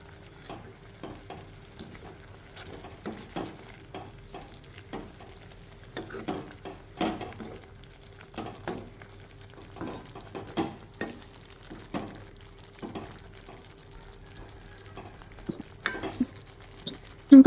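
Spoon stirring a thick egg curry gravy in a pan after cumin powder and crushed peanuts go in, with soft scraping strokes and a faint sizzle, close and fairly quiet, no talking.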